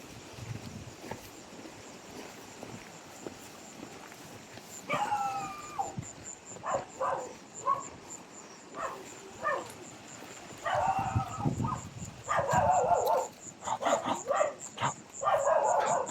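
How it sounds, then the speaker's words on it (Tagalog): Dog near a riverside camp barking and yipping in short bursts, several clusters of barks and whimpers at moderate distance over a noisy outdoor background. "May aso."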